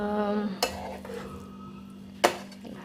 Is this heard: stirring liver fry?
yes